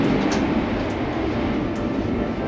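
A high-speed train runs along a line in China, heard from inside as a steady, loud rumble and rushing hiss with a few faint clicks, with no talking over it.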